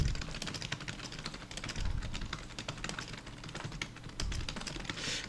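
Continuous keyboard typing with dense, irregular key clicks on a computer keyboard while entering text in Photoshop's type tool, steady and close throughout with no voices.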